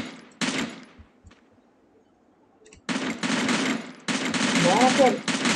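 Gunfire from the battle-royale mobile game Free Fire: loud automatic bursts of shots in two long stretches separated by a quieter gap of low background, with faint talk mixed in.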